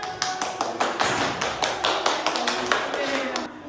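A group of students claps for a classmates' presentation in a classroom, with steady overlapping hand claps running throughout alongside some background voices.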